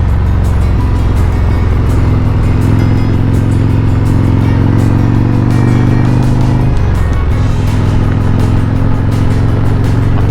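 A Harley-Davidson Road Glide motorcycle rides along Tennessee backroads, its engine a loud steady low rumble throughout, briefly dipping and shifting pitch near the end before settling back into the same drone.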